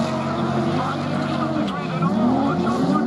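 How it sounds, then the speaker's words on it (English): Autograss race cars at the start of a national championship race in Yorkshire, engines revving loudly together in a steady, dense roar, with a commentator talking over them throughout. "So we look down to the line, the engines rev, the bungee lifts"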